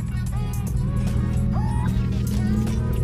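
Deep, loud, steady exhaust rumble from a car fitted with aftermarket exhaust tips, a continuous low drone heard close by with a faint voice over it.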